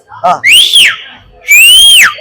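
Two long, loud Rajini-style whistles from a fan at a first-day first-show of the film Coolie in Mettupalayam, each rising then falling, with a short burst of voice just before.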